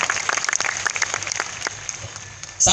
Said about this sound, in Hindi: शायद तो आप ताली बजा रहे हैं दोस्तों